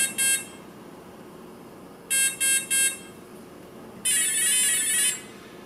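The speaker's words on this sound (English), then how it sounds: "Now we'll hear a series of four beeps," Short electronic beeps from an Align RCE BL80X/BL50X speed controller sound in bursts: one brief tone, then a quick series of three, followed by a longer warbling tone, clear against a quiet background.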